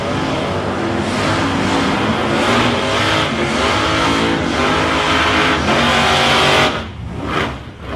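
A purple Holden Torana race car at South Coast Raceway roars loudly and steadily as it comes into lane 2 of the drag strip, the engine noise near and sustained before dropping away sharply near the end.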